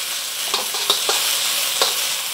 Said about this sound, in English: Adding the onions. I'm gonna cook this for about a minute or two, just to soften them up a little bit.